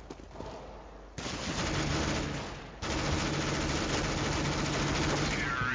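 Dense, rapid automatic gunfire from a Counter-Strike match, with sustained bursts that cut out briefly and resume loud and continuous, filling the clip without talk.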